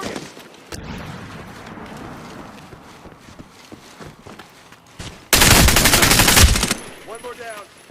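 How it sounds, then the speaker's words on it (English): Rapid automatic gunfire in Medal of Honor Warfighter multiplayer, a loud close burst of machine-gun fire lasting over a second, following quieter distant shots and battlefield clatter, with someone talking briefly. "Nice hip fire kill right there."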